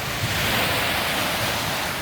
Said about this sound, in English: A bit choppy today at sea